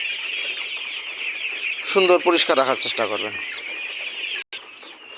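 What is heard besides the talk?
chickens clucking on layer pullet farm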